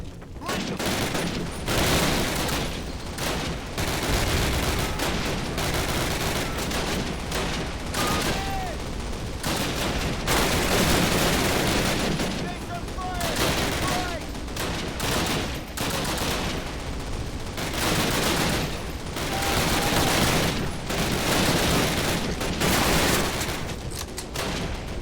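Dense covering gunfire in Call of Duty (2003) during the Normandy assault, a video game: relentless rapid rifle and machine-gun volleys that stay loud and continuous throughout, with shouting voices mixed in.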